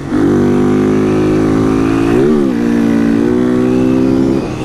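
A motorcycle engine revs steadily and loudly up close, its tone holding level, briefly surging and dipping midway, then settling before cutting off near the end.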